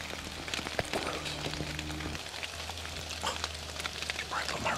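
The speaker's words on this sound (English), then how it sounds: "Stick it out for an hour in the rain." Steady broadband rain patter in the Pennsylvania woods during an October whitetail hunt, continuous and fairly close, with a low hum underneath and a few brief tones early on.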